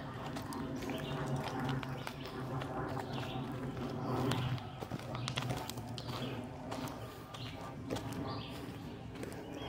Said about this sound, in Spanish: Solo el cantar de los pájaros, escuchen.